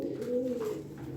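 A pigeon coos close by, giving a soft, low, throaty warble that rises and falls in one short phrase against a quiet background.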